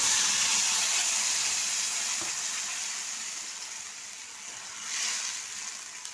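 Spice paste hits hot oil tempered with curry leaves, giving a steady broad sizzle and hiss that slowly settles, then swells briefly again as it cooks, close and alone with no talk.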